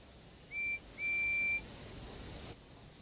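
A guard's whistle at a railway station with steam engines sounds in two shrill blasts, a short one then a longer held one, loud and clear over a steady background hiss.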